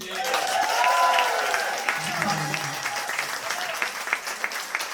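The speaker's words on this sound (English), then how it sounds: "But most of all, a huge round of applause to George Paterson." Applause breaks out from the crowd at a book launch celebration, loud at first and then thinning into scattered claps, with voices and cheering mixed in beneath it.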